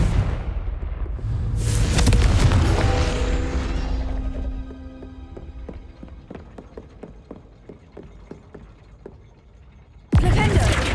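A loud fire-spell blast bursts in Hogwarts Legacy, then rumbles and fades. Rapid mechanical clicks and knocks trail off after it, and a second sharp burst hits near the end.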